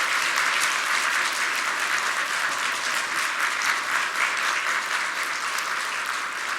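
Audience applause at a church certificate ceremony for faith training graduates at Centum Yeongan Church, steady dense clapping from a full room that holds evenly throughout, with no talking.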